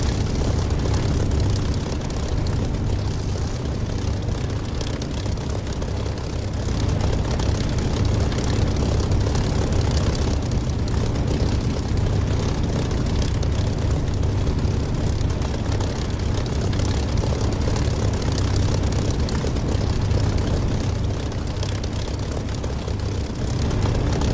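In the DCS flight simulator game, an aircraft taxis and then takes off. Its engine makes a continuous low, heavy drone that stays loud and steady throughout, with no voices.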